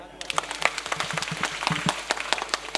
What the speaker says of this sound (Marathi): तुम्ही आहे म्हणून वाजवा टाळ्या